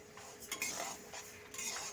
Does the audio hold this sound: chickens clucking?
no